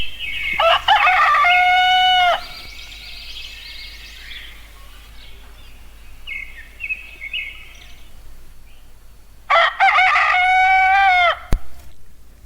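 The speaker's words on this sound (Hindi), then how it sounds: "दूसरे दिन सुबह होते ही रोज की तरह मुर्गा बांग देता है।" A rooster crows twice in the morning, each long, loud, close call standing alone, with softer clucking and farmyard fowl sounds between the crows.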